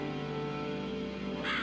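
A raven in the eerie puzzle game Grimm's Folly gives a harsh, rasping caw near the end, loud and close over a steady droning ambient backdrop.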